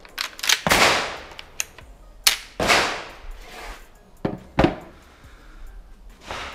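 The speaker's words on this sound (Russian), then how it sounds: "Третий выстрел." An Ata Arms Neo 12 shotgun fires Karat 12/70 slugs: a few sharp, loud reports spaced a second or two apart, each followed by a brief ringing decay, with smaller clicks and knocks between them.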